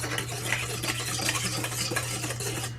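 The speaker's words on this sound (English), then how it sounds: "I just like to use the same paddle attachment that's inside of or from the mixer. Why waste another dish, you know? Give it a nice little mix." A stand mixer's paddle attachment, held by hand, stirs cake batter for tres leches cupcakes in a bowl, giving a steady, close scraping and swishing with a constant low motor hum underneath and no talking.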